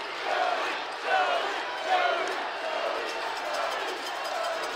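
High school crowd roaring and cheering at a 285-pound class 4A state championship wrestling dual, a dense sustained swell of voices with a few louder surges, and an announcer talking over it.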